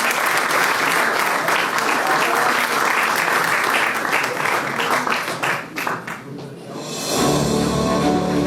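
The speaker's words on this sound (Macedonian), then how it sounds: "Аплауз за сите" Loud, sustained applause from an audience at a municipal sports awards ceremony in Probištip, a dense wash of clapping lasting several seconds before easing off into a murmur.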